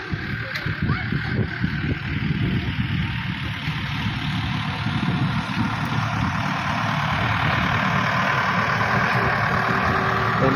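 A tractor engine idles nearby on a farm with a continuous low, rumbling drone, steady throughout, while people talk faintly over it.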